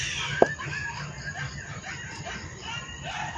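Chickens on a Filipino backyard farm, with one sharp brief cluck near the start, then steady low clucking and farmyard noise throughout, no talk.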